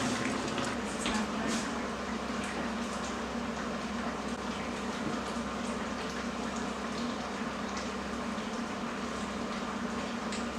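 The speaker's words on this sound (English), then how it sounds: "you're probably watching my stew bit bubble away, being like, Michelle, that is not simmering, turn that down" Stew boiling hard in a pot on the stove, a steady, continuous bubbling roar with fine popping throughout, close and unbroken.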